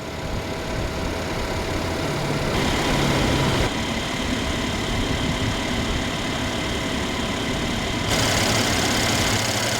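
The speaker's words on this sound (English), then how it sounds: "it's powered by a 3-liter bi-turbo V6 engine that produces 329 horsepower at 5250 RPM" A Mercedes CLS 400 with a 3-liter bi-turbo V6 making 329 horsepower idles steadily, a continuous low, even engine hum heard up close with no voices over it.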